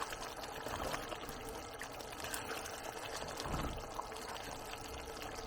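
Cream poured into a pot while cooking Chicken Changezi: a soft, continuous liquid pour, faint and close, with a gentle swell partway through and no speech over it.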